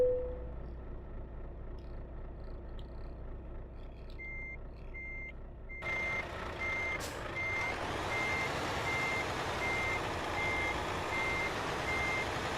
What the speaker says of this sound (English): But let's start the truck.